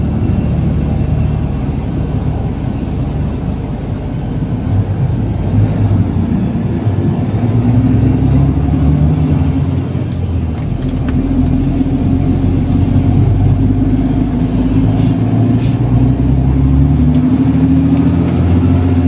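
A motor tricycle drives through flood water in San Simon, Pampanga during a typhoon, its mid-pitched engine droning and revving steadily for the whole stretch over a constant splashing, rushing wash.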